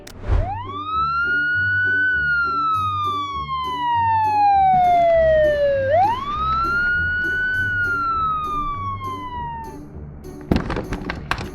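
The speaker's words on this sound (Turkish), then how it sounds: "Böyle durumlarda hemen ambulans çağırmalıyız." A toy ambulance's electronic siren wails in two long rising-and-falling sweeps, loud and close, over a repeating synthesized tune from the toy, during a children's doctor play scene in a park, ending with a few clunks.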